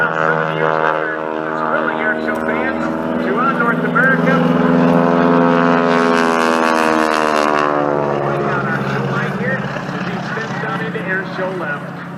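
A propeller airplane drones overhead at an air show in Coshocton, Ohio, a loud, sustained engine tone that swells and shifts pitch as it passes, with an announcer talking throughout.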